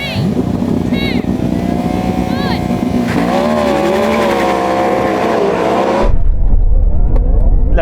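Drag race launch of a Porsche Taycan Turbo GT, Ferrari SF90 and Yamaha R1M, with loud engine revving and rising acceleration tones layered together, ending abruptly into a rumbling roar near the end.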